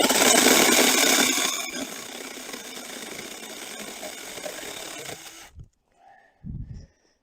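Weikeisa 10-inch handheld brushless cordless chainsaw whirring through wood, loud at first then settling into a lower steady cut, stopping after about five seconds, followed by a few soft knocks and thumps.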